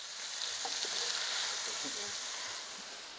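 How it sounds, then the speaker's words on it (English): Snails and vegetables frying in plenty of olive oil with salt and small hot peppers in a pan, a steady close hiss and sizzle throughout with faint crackles. "The snails and vegetables are fried in plenty of olive oil."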